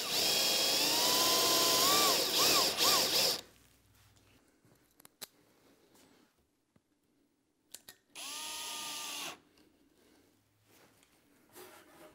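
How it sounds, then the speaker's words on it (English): A drill with a 4-cylinder bit bores shallow holes in wood for figure-eight fasteners on a flat-file coffee table, two loud whining bursts separated by quiet shop sounds and small knocks. "We'll use a 4-cylinder bit and we'll drill the location for the anchors."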